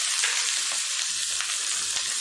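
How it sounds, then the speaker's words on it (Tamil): Small shallots dropped into hot oil with fennel seeds and dried red chilies sizzle steadily, a loud, even frying hiss with no talk. "சின்ன வெங்காயம் சேர்த்துடலாம்."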